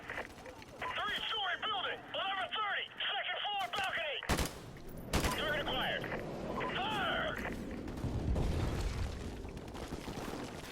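Gunfire in a Call of Duty Modern Warfare Remastered match, repeated shots and bursts with a couple of sharp loud cracks, heard under nearly constant talking by a player.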